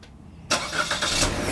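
A car engine starts abruptly after a brief quiet moment, its cranking catch giving way to a steady, close idle that carries on to the end, with no voices.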